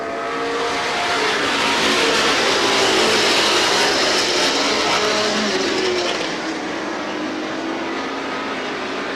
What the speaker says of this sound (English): Fiandaca and Branscombe are side by side off turn number 4.